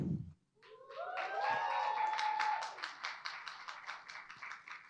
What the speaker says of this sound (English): I hope you give a big round of applause for them